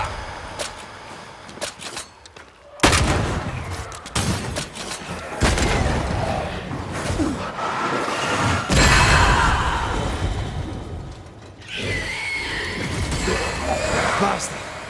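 Enemy gunfire in the video game Banishers: Ghosts of New Eden comes as several booming shots and heavy thuds at irregular intervals, mixed with voices and other game noise.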